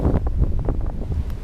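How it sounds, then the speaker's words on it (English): Steady wind buffeting a microphone on a mountaintop in Shenandoah National Park on a cold morning, a loud continuous low roar with gusty rumbles throughout and no voices. "it's cold up here this morning and windy"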